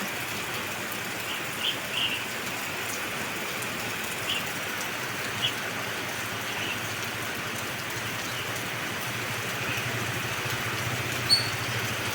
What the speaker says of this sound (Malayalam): ഇവിടെയാണെങ്കിൽ നല്ല മഴയും കാറ്റും.